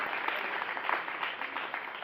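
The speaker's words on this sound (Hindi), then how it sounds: "बच्चों ने एक बार फिर मैं कहूँगा कि पूरे जोश के साथ ताली बजाई जाए।" Audience applause at a school event, a dense steady wash of many hands clapping throughout, fairly even in loudness with no talk over it.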